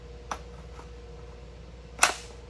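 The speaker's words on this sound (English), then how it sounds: "I'm going to place a mag here that has training rounds in it." Pistol magazine loaded with training rounds being seated into the grip: a faint metallic tap, then a louder, sharp click a moment later, close by, with no talking.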